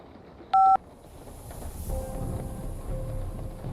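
A telephone tone sounds in a Korean horror audio drama: one short, loud, tonal beep, then a quieter, steady low rumble with faint sustained tones.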